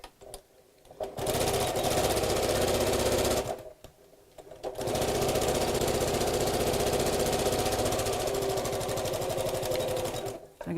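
A sewing machine stitches a fabric bag lining around a curve in two long, steady runs of rapid, even whirring, separated by a short pause.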